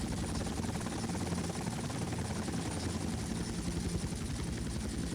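A helicopter in the GTA Vice City video game flies with a steady, loud rotor chop and engine whine that stays constant throughout, with no talking over it.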